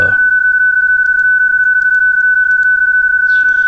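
A single steady, pure PSK31 digital radio tone on the 2-meter band hums continuously, loud and unbroken, with faint clicks and a brief noise burst near the end.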